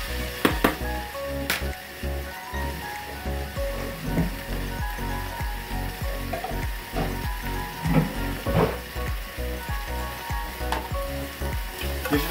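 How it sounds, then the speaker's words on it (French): Onions sweating in a pan for duck breast with orange, a steady close sizzle with soft stirring scrapes and clinks running throughout, no voices. "je fais ici traluire mes oignons"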